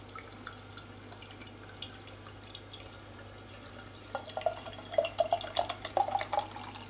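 Boddingtons draught bitter beer is poured into a glass with soft trickling and dripping that grows into louder splashing bubbles toward the end, with a low steady hum underneath.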